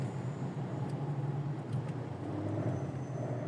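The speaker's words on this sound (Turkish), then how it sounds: "Görüyorsunuz trafik ağır ağır ilerliyor." Slow, heavy road traffic approaching the İçmeler Bridge, a steady low rumble of engines and tyres with faint brief squeaks, continuous and moderately distant, no talk.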